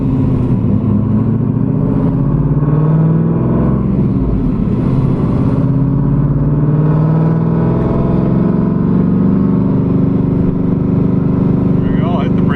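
A big-cam Pontiac WS6 pulling hard from 45 mph, its engine roaring loud and rising through the pull while someone talks over it from inside the car.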